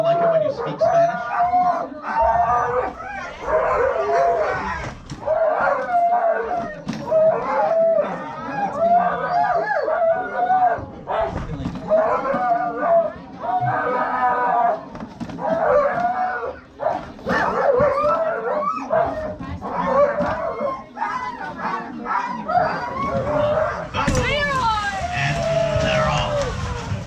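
Husky-type dog in Skagway, Alaska howling and vocalizing, a long string of yowling, woo-woo calls and yips up close, with people talking over it.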